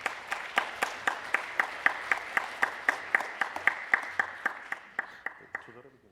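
Audience at the opening ceremony of the Gwangju children and youth council welcoming a guest, with a steady rhythmic clapping in unison, evenly spaced claps over several seconds that fade toward the end.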